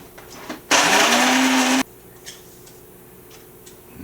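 Fresh coffee beans ground in a small electric grinder, a loud steady whirring burst of about a second, bracketed by light clicks and handling noises.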